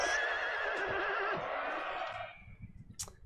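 A horse whinnies loudly amid cavalry in a Napoleon: Total War battle, a long shrill neigh fading out, followed by faint hoof clatter and scattered battlefield noise.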